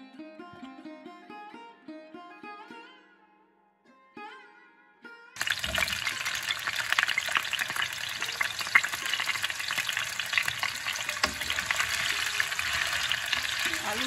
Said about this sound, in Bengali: আলুটা ঢেকে ভাজবো